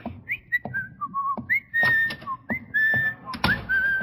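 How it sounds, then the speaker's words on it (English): Clear, close whistling in short rising and gliding phrases, like a summons call, with brief pauses between bursts in a quiet old-time radio comedy scene. "I thought you were whistling for me."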